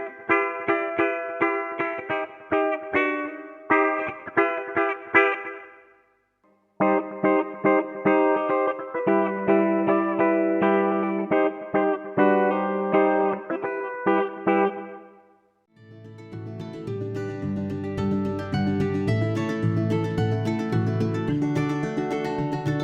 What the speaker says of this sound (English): And the last pedal for the day, auto wah